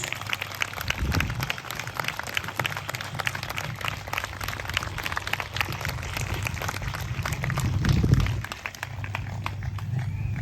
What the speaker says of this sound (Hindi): Come on, give a good clap for our Lord Jesus.